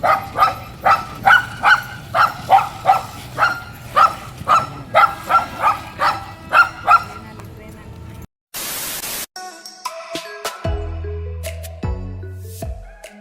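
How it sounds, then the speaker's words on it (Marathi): A dog barks in a fast, steady run of about twenty sharp barks, followed by a sudden burst of static and some electronic beeps. "आणि कुत्रा इथं भुकलेलं आहे."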